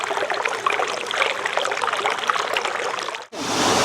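Spring water trickling beside a mountain trail in the Araku hills, a steady close babble and splash that runs unbroken for about three seconds before an abrupt cut to a duller, rougher wash of water.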